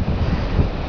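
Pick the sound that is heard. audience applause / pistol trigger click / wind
wind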